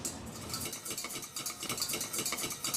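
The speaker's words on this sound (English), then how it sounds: "melt your butter in the pan, add your flour, and work your roux" A spoon or whisk works a roux of melted butter and flour in a pan, a soft continuous scraping and stirring in quick repeated strokes, fairly quiet and close with no voices.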